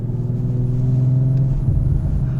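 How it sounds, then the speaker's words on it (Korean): An Audi RS5 driven in RS mode, its engine holding a low steady rumble from inside the cabin, with a slight rise toward the end and no talking. "RS 모드를 놓고 그래도 조금 한번 달려보겠습니다"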